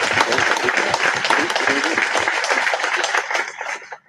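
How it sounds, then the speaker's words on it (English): An audience at a naturalization ceremony applauds steadily with dense, overlapping claps, loud and sustained, tapering off in the final moment. "let's start with a huge round of applause for our soon-to-be new citizens."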